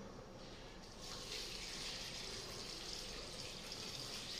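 Water is poured into flower pots in a quiet, steady hissing stream that grows a little stronger after a second and keeps running without a break.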